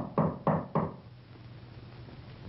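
Three firm, evenly spaced knocks on a door ring out close and clear, then a quiet low room hum lingers after them.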